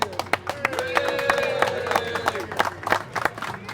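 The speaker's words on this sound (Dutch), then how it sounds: "Nog even klappen voor Jacques." An audience claps at a lively local event in Arcen, with rhythmic handclaps mixed with crowd voices, cheering and a held sung or shouted tone, close and fairly loud.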